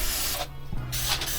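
A short hiss from an aerosol spray can aimed at a hornet, a brief close burst that cuts out midway and then resumes.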